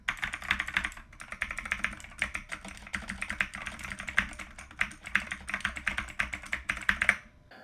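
Rapid typing on a mechanical keyboard with Kailh Blue switches, bursts of crisp clicky keystrokes in an uneven rhythm, close and fairly loud, stopping abruptly near the end.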